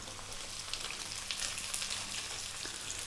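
Onion, ginger and celery stir-frying over high heat for Thai chicken fried rice, a bright, continuous sizzle with small crackles as the pan is kept moving, close and steady, no talking.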